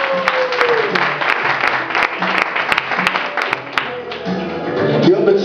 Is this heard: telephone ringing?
no